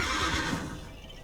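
A brief, bright horse whinny sounds as a game effect for the Diamond Mare card in MTG Arena, loud at first and then fading over about a second, with no talking.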